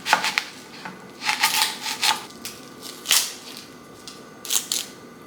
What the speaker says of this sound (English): We have a red onion right here. And let me just cut this in half first.